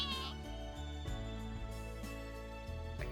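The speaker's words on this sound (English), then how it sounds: "kitten begins to whine loudly in response to her presence" A kitten whines and mews in the Fruit of Grisaia video game, its cries layered over loud, continuous background music.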